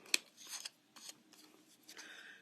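Scissors snipping around the edge of a paper heart for a triple easel fun-fold card, a few short close crisp cuts spaced apart in a quiet room.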